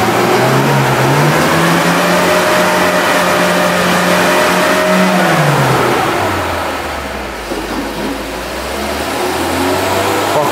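A car engine with sawdust packed into its gearbox revs loudly with no voices: the whine climbs and holds, sags low for a moment, then rises again, all close and continuous.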